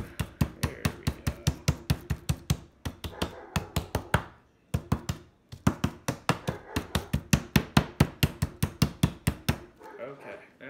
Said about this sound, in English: Very lightly hit the chicken. Make it nice and flat.